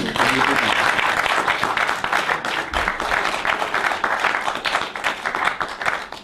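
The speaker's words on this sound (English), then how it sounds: "You got to give me an applause." A lecture audience breaks into sustained applause at the close of a talk, dense and fairly loud, a continuous wash of many hands clapping without pause for several seconds.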